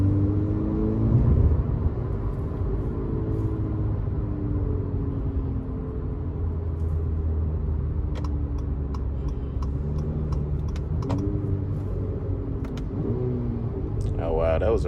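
A 2021 Acura ILX A-Spec with its 2.4-litre engine hums steadily from inside the cabin on a test drive in sport mode, a low continuous drone with gear shifts and faint ticking clicks near the end.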